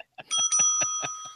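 A swear bell on a geocaching podcast rings with a bright, sustained metallic tone, struck several times in a steady rhythm so the ringing overlaps, loud and close.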